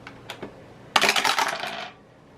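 Dice tossed onto a hard surface during a savings budgeting game, with a quick rattling tumble of clicks and clatter lasting about a second, close and fairly loud, after a couple of faint taps.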